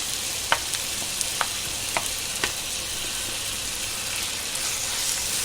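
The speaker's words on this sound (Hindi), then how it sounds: "अभी घी डाले, अभी इसके अंदर ये भोपला डालेंगे।" Black pumpkin (bhopla) frying in ghee in a pan, a constant bright sizzle with a few soft, evenly spaced stirring taps, close by and without talk.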